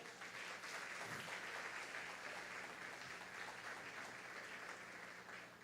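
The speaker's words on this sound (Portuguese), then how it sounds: "Você pode dar um forte aplauso ao Senhor?" A church congregation at a Sunday morning service gives sustained applause, a continuous even wash of many hands clapping at once, heard faintly and from a distance.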